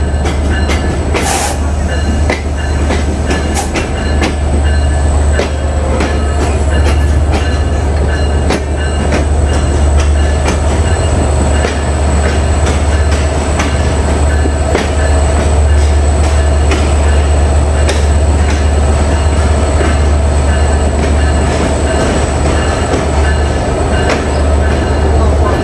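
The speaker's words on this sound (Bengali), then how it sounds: "train number 715 আন্তনগর up Kapotaksha express প্রবেশ করছে তার আজকের যাত্রার দ্বিতীয় যাত্রা বিরতি স্টেশন যশোর জেলার যশোর রেলওয়ে জাংশনে" Kapotaksha Express, the 715 up intercity train, rolls into Jessore railway junction with a steady loud rumble and clickety-clack of wheels on rails, continuing close by throughout.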